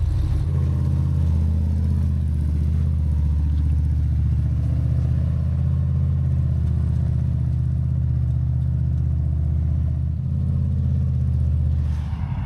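Polaris RZR Trail side-by-side in two-wheel drive crawling off-road, its engine a steady, loud, close rumble with clattering drivetrain, held at a constant load throughout without talk.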